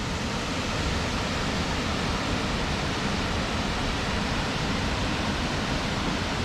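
A waterfall pours into a deep pool strewn with bits of trees, giving a steady, full broadband roar that stays constant and close throughout, with no voices.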